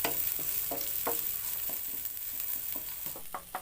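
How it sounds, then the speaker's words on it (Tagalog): Onion sautéing in a pan on a slow electric stove for Filipino corned beef with potatoes: a steady soft sizzle with repeated scraping stir strokes, fairly quiet and close, no talking. "sunod natin igisa ang sibuyas"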